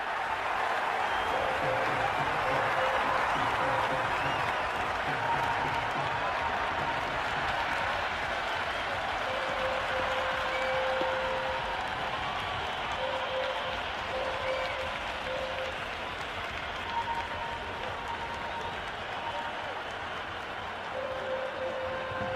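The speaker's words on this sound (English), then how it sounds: "There's a buzz, a real buzz coming from the stands" A stadium crowd at a Cricket 26 T20 match between India and South Africa, a steady roar of cheering and applause that holds at the same level throughout.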